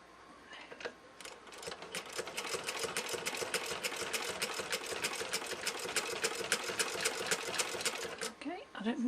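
A vintage straight-stitch sewing machine runs a zigzag stitch in a steady, rapid mechanical clatter of needle strokes lasting several seconds, close and fairly loud, with a brief slower start.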